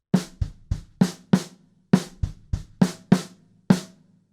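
A drum kit plays the groove of a remix straight, with no swing, alternating punchy kick and bright snare hits in an even pattern over a short stretch, clean and close with no talking.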